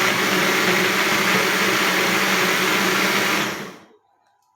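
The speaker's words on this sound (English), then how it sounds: "Any blender, hand blender, commercial blender, whatever blender it is," A blender whirs loudly and steadily at full speed for almost four seconds, then cuts off abruptly into near silence.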